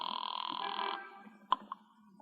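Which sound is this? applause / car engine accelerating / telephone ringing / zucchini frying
telephone ringing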